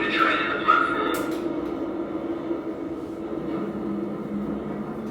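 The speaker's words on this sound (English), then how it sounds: "The train now approaching is a District Line train to West Ham." A London Underground District Line train rolls into the platform with a low, steady rumble. A brief high clatter sounds early on, and a voice is faintly present.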